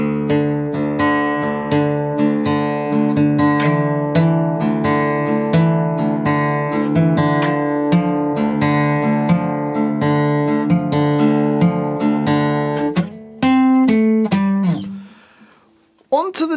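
An acoustic guitar plays a line from a song slowly, with ringing picked notes and sustained chords at steady volume, ending with a few brighter plucked notes and a brief fade.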